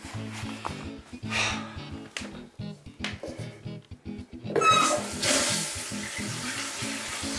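Water from a supply line hisses and splashes into a newly installed toilet, starting with intermittent trickles and then surging into a loud, steady rushing flow near the end, with no talk.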